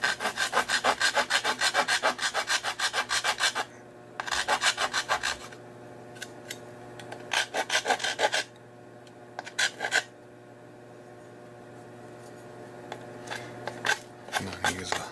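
A rasp files rough edges off an ABS 3D-printed plastic part in rapid, rhythmic scraping strokes, loud and close, with pauses and a few shorter bursts of rubbing.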